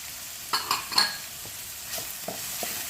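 Capsicum added to softened tomatoes fries in a pan with a low background sizzle, broken by several spatula stirs and scrapes, with no one talking.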